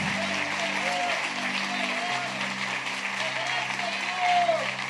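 A church congregation claps continuously and evenly, moderately loud, while a voice and a low sustained tone carry on underneath.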